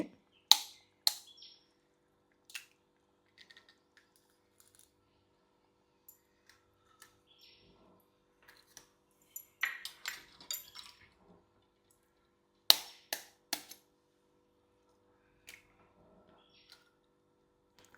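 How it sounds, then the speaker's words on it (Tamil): Eggs are cracked and poured into simmering egg curry in a clay pot as sparse, quiet taps, cracks and small wet drips scattered across a mostly hushed background. "நான் இப்போ முட்டையை உடச்சி ஊற்றுறேன்"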